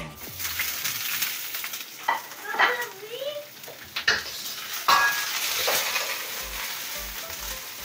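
Broccoli frying in a pan for beef and broccoli, a loud close sizzle broken by stirring scrapes and clinks of a utensil against the pan, with voices talking briefly over it.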